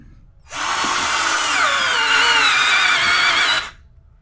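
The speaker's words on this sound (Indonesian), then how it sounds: "Ini terakhir ya di mata bor kayu 4 slot 20 mili kita siksa" A Morris 16.8V brushed cordless drill at its lowest speed setting drives a 20 mm four-slot wood bit into wood, giving one steady, loud whine about three seconds long that starts and stops abruptly, with no talk over it.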